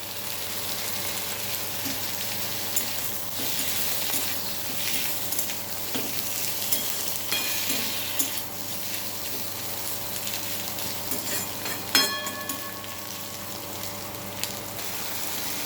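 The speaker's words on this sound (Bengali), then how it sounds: "দিয়ে দেবো কাঁচা লঙ্কা চেরা।" Slit green chillies and chopped tomato fry in hot oil for a spicy eggplant curry, giving a continuous close sizzle and crackle with occasional stirring clinks.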